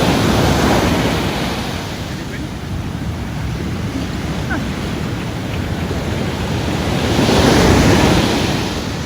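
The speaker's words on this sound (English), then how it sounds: "the waves come right up here, over the top" Rough sea surf roaring continuously up the shore, broad rushing wash swelling louder toward the end, with wind buffeting the microphone.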